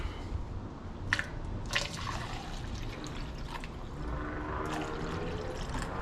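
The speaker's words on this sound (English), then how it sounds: "let me get a funnel and some water and see if I can get some water in this thing" Water is poured through a funnel into an old car, a steady trickling and gurgling pour with a few sharp clinks, heard alone and close.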